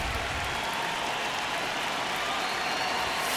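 Stadium crowd noise in the baseball video game MLB 26 during a one-run ninth inning, a steady broad roar of cheering and applause that holds evenly throughout with no talk.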